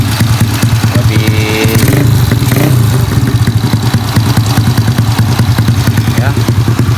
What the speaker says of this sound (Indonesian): Kemarin si suaranya itu kurang keluar ya dari knalpotnya.